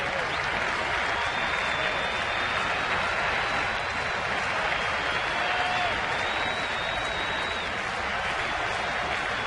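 Steady roar of a big crowd of about 34,000 at a night baseball game, Cincinnati at Washington, a dense wash of cheering and clapping filling the whole stretch without a break.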